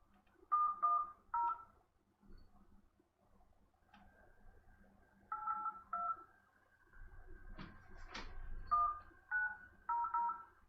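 Telephone keypad tones beep one after another in short bursts, several pairs and runs of dialing tones with brief pauses between them, fairly clear against a quiet background with faint rustling.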